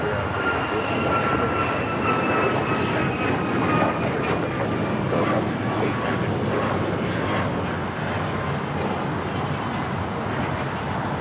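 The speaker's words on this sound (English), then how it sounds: "This is United Airlines 1621 taking off to Orlando on the MAX 9" A United Airlines Boeing 737 MAX 9 bound for Orlando roars steadily on takeoff at LAX, a broad, fairly loud engine rush with a faint whine threaded through, holding nearly constant throughout.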